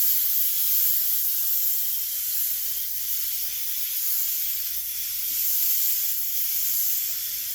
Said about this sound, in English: the control and the beautiful atomization that a detail-specific airbrush is going to achieve